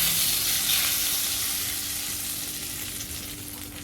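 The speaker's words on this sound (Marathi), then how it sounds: "आपण डाळ पालक वरती ओतूया" A hot tempering of oil fried with garlic and green chillies is poured over dal palak, making a loud, dense hiss that fades slowly over a few seconds. No one speaks.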